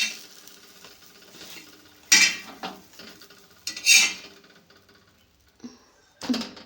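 Holige flatbread is flipped on a pan with metal utensils, giving a few sharp scraping clinks spaced a second or two apart over quiet kitchen background, with no talking.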